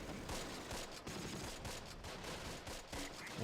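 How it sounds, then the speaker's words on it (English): Dense, continuous rattle of heavy machine gun fire and surrounding gunfire in the World War II strategy game Close Combat: The Longest Day, a noisy wash of rapid shots with no speech. "The heavy machine gun team is taking heavy fire."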